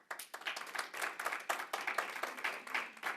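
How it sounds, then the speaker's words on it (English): Clapping breaks out at a state committee hearing, a burst of many hands in an irregular, fairly dense patter, moderately close and steady for a few seconds with no talk over it. "we don't want to respond with clapping or anything"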